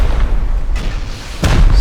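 In the video game Rust, rockets hit a high quality wall with loud, deep booms: one heavy impact rumbles throughout and a sharper second blast lands near the end.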